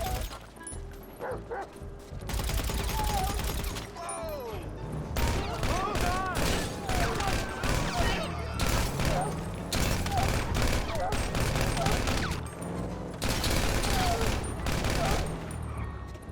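Gunfire hits Chop the dog in GTA 5, sustained bursts of rapid shots mixed with the dog's barks, yips and whimpers, loud and dense, with speech over parts of it.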